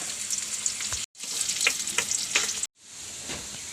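Onions drop into hot oil for tempering a prawn and mango curry, a loud bright sizzle that cuts out briefly twice and resumes as a steady crackling fry.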